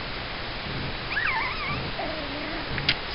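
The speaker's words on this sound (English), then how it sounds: "Yes, pretty puppies." Small puppies whimper in a few thin, wavering high whines over a steady outdoor background hiss, ending with a short yip.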